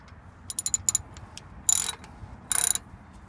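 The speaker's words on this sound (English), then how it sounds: "you're going to need to remove two 17mm bolts here on the back so we can pull that off." Ratchet clicking close up while loosening 17mm caliper bolts on a Trailblazer or GMC Envoy 5.3L brake during rotor replacement, a few quick clicks followed by two longer rapid rattling bursts, faint and alone.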